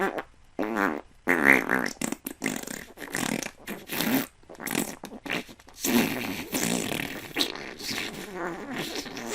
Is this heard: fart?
yes